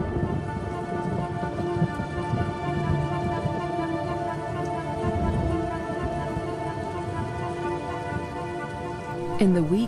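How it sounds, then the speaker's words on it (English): Heavy rain falls in a steady, dense roar during a prolonged wet season in the African wild, with low rumbles underneath and a brief sharper sound near the end. "the rains continue to fall in a ceaseless torrent"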